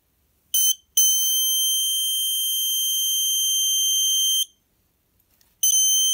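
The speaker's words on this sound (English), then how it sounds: "if I stick my hand in that beam between the white LED and phototransistor, an alarm will sound" A Snap Circuits electronic alarm triggered by a hand blocking the light beam between a white LED and a phototransistor: a loud, piercing steady electronic tone, a short burst, then a sustained three-second wail, then another burst starting, no talking.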